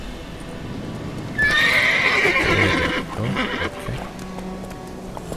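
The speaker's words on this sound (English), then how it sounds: "Luckily, Geralt can always count on his horse, Roach, to help him in his travels." Horse in The Witcher 3 video game whinnying loudly, with steady clip-clop of hooves underneath and a brief spoken remark.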